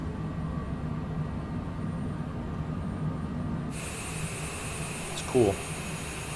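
An airplane coming in to land at Rapid City, South Dakota airport, a steady broad engine roar that brightens and grows louder partway through, heard under brief conversation from people nearby.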